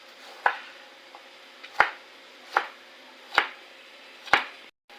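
A knife slices a single green chili on a cutting board for a Filipino salad, making five crisp, evenly spaced chops about a second apart, close and clear against a quiet background.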